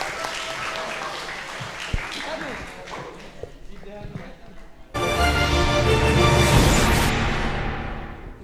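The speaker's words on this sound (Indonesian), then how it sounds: "Tepuk tangan untuk divisi multimedia." An audience at a school knowledge-sharing session bursts into loud, dense applause for the multimedia division, swelling suddenly after a stretch of voices and background noise and staying strong to the end.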